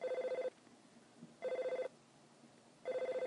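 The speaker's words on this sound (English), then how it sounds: "The phone's ringing." A telephone rings in the video game EarthBound, a chiptune-style electronic ring in three evenly spaced bursts of rapid warbling tone with short pauses between, clear and alone.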